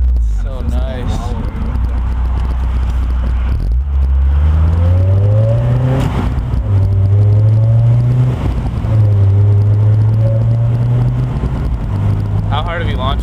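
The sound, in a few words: Honda S2000 with HKS exhaust and test pipe revving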